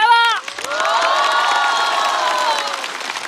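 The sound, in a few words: audience applause and cheering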